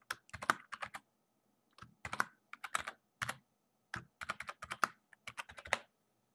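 Typing on a computer keyboard to enter a new password, with close, crisp key clicks in short bursts separated by brief pauses and no talk.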